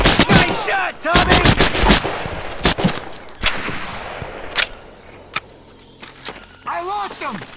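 Gunfire in the Medal of Honor Pacific Assault video game during a fight at the Makin Atoll fuel depot: rapid bursts and single loud shots, some near and some farther off, with shouted voices in between.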